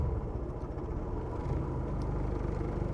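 Car engine idling unevenly with a suspected throttle position sensor fault, a low rumbling drone that wavers and pulses slightly, steady and moderately quiet with no talking.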